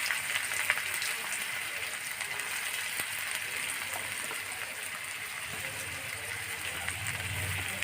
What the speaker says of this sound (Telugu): కిలో రొయ్యలకి ఒక 4 ఉల్లిపాయలు తీసుకొని ముక్కలుగా కట్ చేసి ఇలాగ ఆయిల్లో వేయించుకోవాలన్నమాట